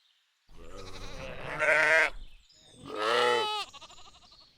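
Sheep bleating on a farm: two loud, drawn-out bleats, the first long and wavering, the second shorter, close by with silence between.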